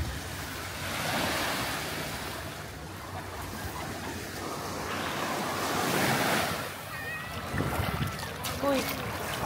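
Steady surf washes in and out close by at a beach in Spain, with wind buffeting the microphone and faint voices in the background.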